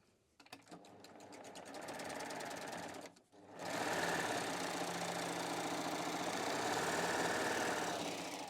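An overlock serger stitches a four-thread seam, its motor whirring in a fast steady buzz, briefly stopping and starting again at full speed, close and continuous.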